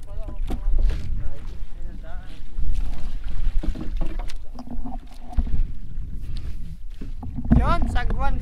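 A wooden oar paddles a small boat through shallow, rocky water, splashing and knocking intermittently while someone speaks nearby over light wind noise.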